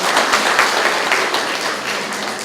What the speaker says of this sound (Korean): 110명의 위원을 위해서 박수를 한번 쳐보겠습니다.